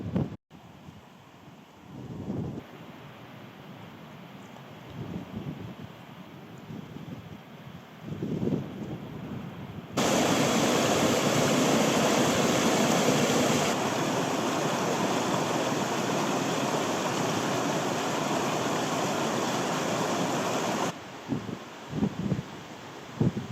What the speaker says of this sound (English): There's just the sound of water absolutely everywhere falling off the hills.